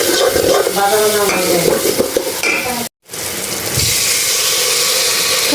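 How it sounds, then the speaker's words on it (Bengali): Spice masala sautéing for chicken curry with bottle gourd: a loud, steady sizzle with scraping stirring strokes in the pan, a brief break midway, then the frying hiss resumes strongly; no talking over it. "যা দিলাম পানি বালা করে মশলাটা কষে নেবো সুন্দর করে।"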